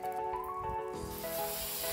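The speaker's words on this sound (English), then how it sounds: "have to use the hose." A garden hose sprays water on a small farm plot. A soft hiss builds in the second half over a faint tonal hum, quiet and close.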